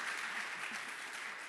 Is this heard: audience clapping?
yes